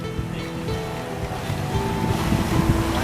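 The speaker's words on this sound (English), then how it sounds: "They hear this boat coming." Tour boat motoring across open water on a dolphin trip off Fort Myers Beach, Florida, with a steady engine drone, splashing waves and wind buffeting the microphone, growing slightly louder.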